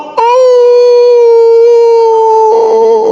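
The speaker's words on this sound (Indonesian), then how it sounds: "terdengar suara anjing melolong" A dog howls in one long, loud, sustained note held close by for about two seconds, its pitch wavering slightly at the end, heard during a call to prayer.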